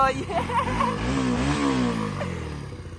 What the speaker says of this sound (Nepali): त्यो स्विच अफ हानेर बाइक स्टार्ट गर्न खोज्छु